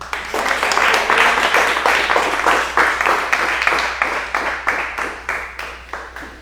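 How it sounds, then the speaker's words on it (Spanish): A church congregation claps in sustained applause, steady at first and then thinning into scattered, rhythmic claps toward the end. "Denle un aplauso al Señor."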